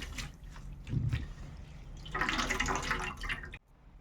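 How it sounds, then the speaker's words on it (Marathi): Fenugreek leaves are rinsed in clean water for dal dhokli: soft drips and trickles, then a louder stretch of splashing and swishing water in a bowl, close and quiet, ending suddenly. "पाणी घालून याला स्वच्छ पाण्याने धुवून घेऊया"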